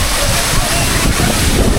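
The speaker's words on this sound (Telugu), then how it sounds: "ఇదిగోండి వాటర్ ఫాల్స్. నా వాయిస్ వినిపిస్తుందా మీకు? మొత్తం వాటర్ సౌండ్ వస్తుందా?" Steady, loud rushing of a waterfall fills the scene, a constant broadband roar with wind buffeting the microphone throughout.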